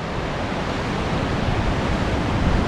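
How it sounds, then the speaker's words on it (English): Big surfing waves break along a beach in a loud, steady roar of surf with wind noise over the microphone, and no one speaks. "The waves are quite nice actually, they're quite good for surfing today."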